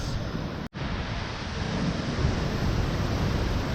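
A steady, broad roar of rushing water from a waterfall near La Fortuna, Costa Rica fills the air, constant and loud, with a brief dropout near the start; no voices.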